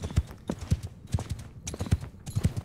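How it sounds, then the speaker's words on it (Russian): Horses' hooves clip-clopping in a Mount and Blade 2 Bannerlord battle, a steady rhythmic series of thuds repeating in bursts at moderate loudness, with no talk over them. "Так, я слышу лошадей."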